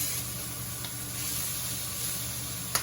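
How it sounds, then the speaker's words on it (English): Onion and pepper sizzle in a frying pan, a faint, steady hiss that holds throughout with a small clink near the end and no talk. "let me add the onion and the pepper. Dump that right in the pan."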